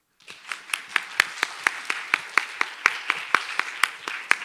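Audience applause welcoming the chair and speakers as they take their seats on stage at the Seoul Olympic Legacy Forum, built from distinct, fairly sparse claps at a steady rhythm. It starts after a brief silence and carries on alone at moderate loudness.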